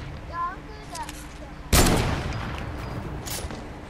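Hunting rifle fired in Fortnite, one loud sharp crack that booms and decays slowly, preceded by a brief voice and faint game sounds.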